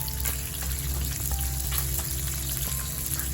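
Sea bass frying in a pan as butter is added, a close, steady sizzle with crackling pops and brief spatters, no voices.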